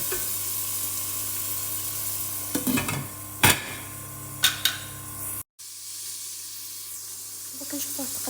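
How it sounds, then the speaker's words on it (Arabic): Meat frying in a pot for Algerian chorba frik soup, a faint steady sizzle with a few sharp stirring clatters and scrapes, quiet throughout, with a brief cut near the middle. "خلوه يتقلى هو الاول هكا"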